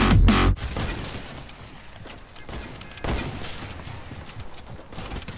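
Video game gunfire, a loud opening volley followed by scattered rapid bursts and cracks of varying distance over a dense background of battle noise.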